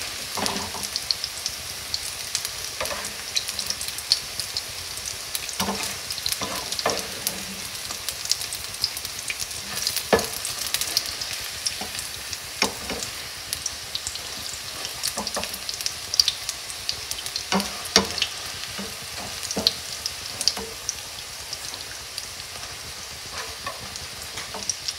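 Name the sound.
carrot fritters frying in oil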